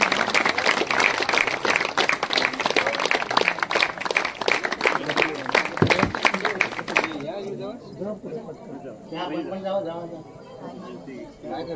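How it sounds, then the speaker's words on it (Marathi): At a Swami Samarth temple gathering, a large audience claps loudly and densely for about seven seconds. The applause then gives way to someone speaking over the fading crowd. "टाळ्यांच्या, प्रचंड टाळ्यांच्या गजरात त्यांचं आपण अभिनंदन करूया, स्वागत करूया आणि सन्मानही करूया"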